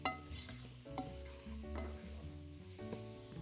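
Onions frying in a pan for Indian chicken curry, a soft close sizzle with a few stirring scrapes over a low steady hum, brief and fairly quiet, no voices.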